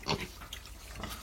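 Piglets eat and drink at a drinker on a pig farm, giving close, wet slurping and snuffling sounds with a brief louder grunt at the start, all under continuous noise.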